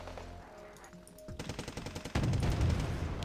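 Gunfire from units in the Wargame Red Dragon real-time strategy game, a rapid rhythmic burst of shots followed by a denser, louder barrage that continues to the end, with no talking.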